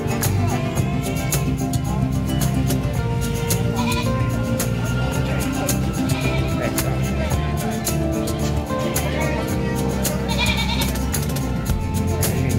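Goats bleat amid a dense, constant din at a busy livestock market in Malasiqui, Pangasinan, with calls overlapping a steady crowd and background noise throughout.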